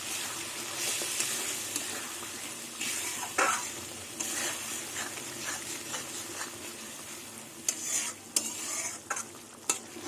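Spice paste for a tengra fish curry with mustard and cumin sizzling and frying in oil, with intermittent stirring scrapes and crackles over a steady fry, close and moderately loud.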